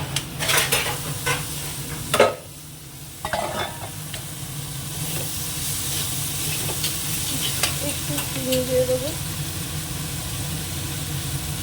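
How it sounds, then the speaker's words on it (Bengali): Leafy greens tipped into a hot pan and fried, a loud burst of sizzling as they land, then continuous crackling sizzle with occasional stirring scrapes, close and steady. "এবার শাকটাকে ঢেলে দেবো"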